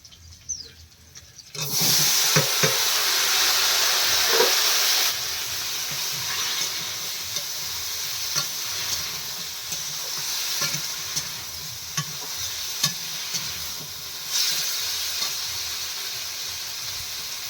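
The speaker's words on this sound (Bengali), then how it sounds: "আর আজকে পেঁপে আলু কুলপি শাক দিয়ে রান্না হচ্ছে" Papaya, potato and kulpi greens stir-fry in a pan with a loud continuous sizzle that starts abruptly, spatula scrapes and clinks punctuating it throughout.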